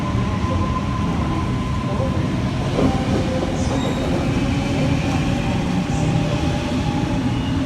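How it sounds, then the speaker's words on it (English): Train A45 pulls out of platform 2 at Parramatta station, with a steady rumble of wheels and carriages, faint rail squeal and a few distant tones over the continuous noise. "And A45 is now departing on platform number 2. It is going to Richmond."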